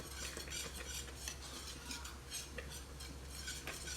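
Strawberry balsamic jam churns at a hard rolling boil in a pot while a utensil scrapes and stirs steadily, with bubbling and soft clinks close by.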